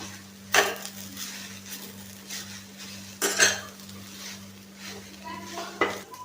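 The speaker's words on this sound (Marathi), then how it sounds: "असं हे 1 वाटी सुकं खोबरं टाकायचं आणि हे छान व्यवस्थित मिक्स करून घ्यायचं।" Dried coconut is folded into a beetroot burfi mixture in a pan, with a few distinct scraping stirs of a spoon against the pan over a soft, continuous sizzle.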